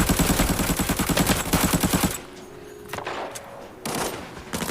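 A video game shooter with rapid automatic gunfire bursts in a fast rhythmic stream, loud and close, then a quieter stretch broken by a few distant shots.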